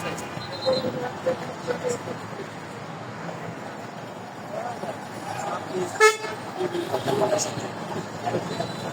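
Horns toot again and again, near and far, in a crowded Eid-time traffic jam at Chandra. Traffic rumbles steadily underneath, and voices are heard in the background.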